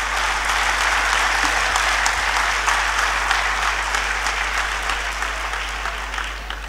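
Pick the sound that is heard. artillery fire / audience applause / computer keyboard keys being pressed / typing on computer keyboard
audience applause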